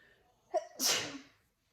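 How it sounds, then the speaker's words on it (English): A single close, sharp sneeze with a short intake of breath just before it, then quiet. "And I have to sneeze."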